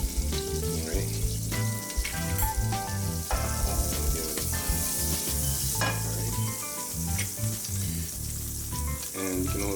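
Butter sizzles steadily in a pan as a vegan grilled cheese sandwich fries, the frying partly buried under loud rhythmic background music for the whole stretch.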